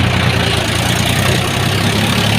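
A tractor engine runs steadily and close by with a deep, constant idling rumble and no talk over it.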